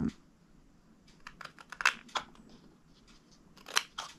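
Scissors cut through paper card at a slight bevel in short, crisp snips, several quick clipped cuts close by with brief pauses between them.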